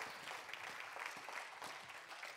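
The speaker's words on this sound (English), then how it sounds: "Give it a clap to the Lord right now" Congregation clapping in praise at a church service, a faint, steady wash of many hands clapping together at a distance.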